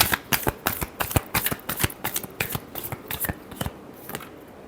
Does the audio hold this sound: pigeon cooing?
no